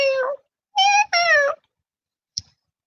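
A cat sound effect meows three times in clear, loud, close tonal calls, followed by a brief faint click, with nothing else around it.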